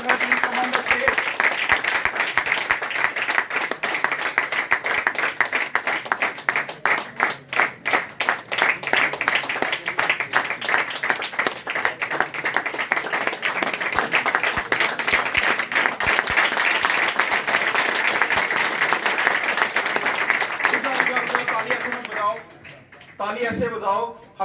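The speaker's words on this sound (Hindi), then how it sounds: "आप सबकी जोरदार तालियों के बीच में मैं एमरल्ड स्टार को बुलाना चाहूंगा" A crowd at a Pollux coin Grand BOP event at Sukhdev Dhaba, Murthal, applauds Emerald Star achievers with loud, dense clapping that lasts about twenty seconds, then drops off abruptly, leaving only a few scattered claps.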